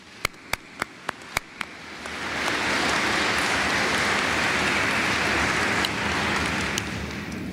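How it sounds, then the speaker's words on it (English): Audience applause at a university athletics press conference: a few sharp single claps at first, then full clapping swells in and holds as a dense, steady patter before easing slightly at the end, with no talk over it. "Let's give them all a round of applause."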